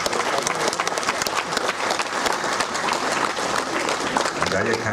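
Thunderous audience applause at a school opening ceremony, a dense, sustained roar of many hands clapping with crowd murmur beneath, continuing steadily throughout.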